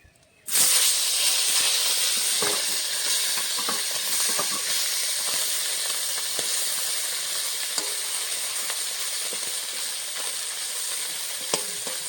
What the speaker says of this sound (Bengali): লাল লাল করে ভেজে নিয়েছি এখন মাছগুলো নামিয়ে নেব বাকি মাছগুলো এভাবে ভেজে নেব